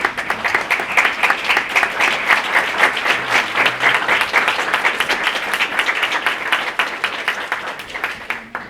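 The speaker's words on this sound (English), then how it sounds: "I want to give you a quick round of applause" An audience at a women veterans recognition celebration gives a steady round of applause. The brisk, even clapping holds at a constant level throughout and stays clear of speech.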